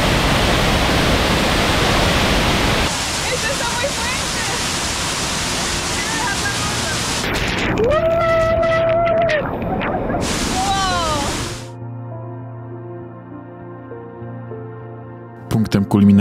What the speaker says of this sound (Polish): Punktem kulminacyjnym wycieczki jest chodzenie pod wodospadem tuż przy spadającej z ogromną prędkością wodzie.